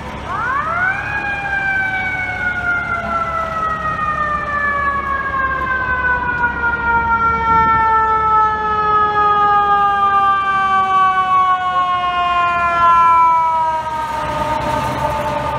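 An FDNY emergency vehicle siren sounds loud and close on West 34th Street in Manhattan at a pedestrian struck-by-car scene, one long wail sweeping down in pitch over many seconds amid street traffic rumble.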